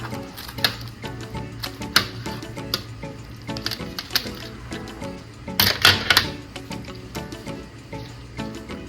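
Close, crunchy snips of kitchen scissors cutting a slice out of a homemade Mexican pizza, irregular clicking cuts with a dense cluster of louder crackles near the end.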